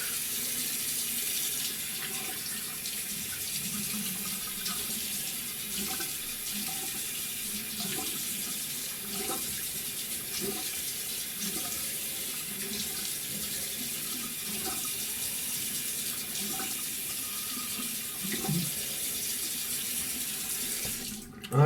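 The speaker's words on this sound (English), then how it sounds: "I'm gonna rinse this off with warm water" Warm water runs steadily from a tap into a sink for rinsing, a constant splashing hiss that lasts throughout with no talking.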